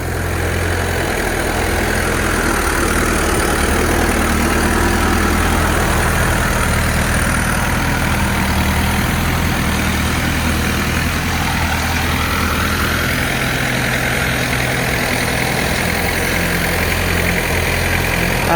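Small homemade hay baler with its engine running as it is test-driven through turns, a loud, steady mid-pitched engine drone with vibration and no break in the sound throughout.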